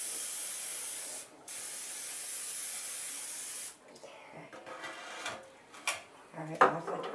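Cooking spray from an aerosol can coats a baking pan for banana bread at home, a steady close hiss lasting a few seconds that breaks briefly and resumes, followed by soft handling clatter and rustling.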